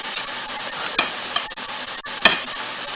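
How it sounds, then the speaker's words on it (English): A knife cuts turkey breast into chunks in a crisscross pattern, a few sharp taps against a cutting board over a constant background hiss. "Let's get that turkey cut up. I just do a basic crisscross on it."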